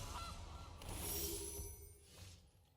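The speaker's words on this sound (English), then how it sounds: "goose." Goose honks in a digital card game, two loud nasal calls, the first longer and sustained, the second shorter, with no talk over them.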